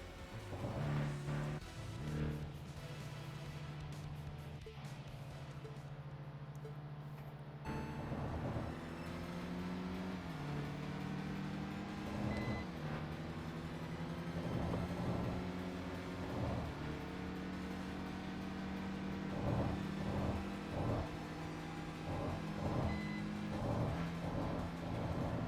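Car engine in the racing video game TXR 2025 drones steadily at a constant pitch, briefly dipping quieter, then continuing with rising and falling revs and short bursts through the rest, close and loud throughout.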